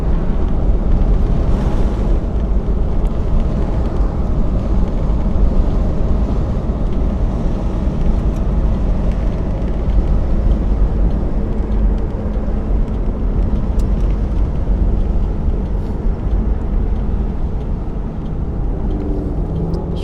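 A 1963 Cadillac drives along with a loud, steady engine and road roar close up, a constant rumble that holds unbroken for the whole stretch with no voices.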